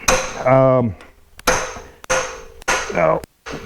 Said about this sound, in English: you're just going to be hammering your butt off till you get things to move